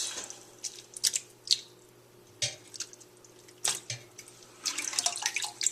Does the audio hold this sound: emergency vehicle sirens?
no